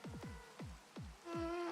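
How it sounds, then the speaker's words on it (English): Rain falling in the Minecraft video game, a steady patter with a series of soft, repeated descending tones layered over it, close and fairly quiet, with no voices. "hate rain."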